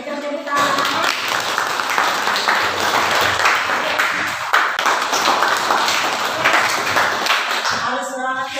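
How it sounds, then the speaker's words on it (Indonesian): A group of children in an Indonesian classroom claps in a dense, steady burst of applause, with voices audible at the start and end. "Tapi tepuk tangan"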